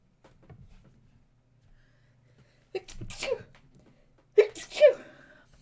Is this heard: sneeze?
yes